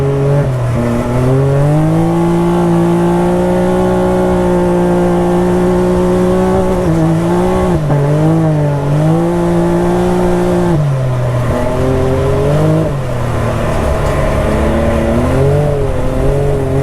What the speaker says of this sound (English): We've got the MBRP active exhaust on this thing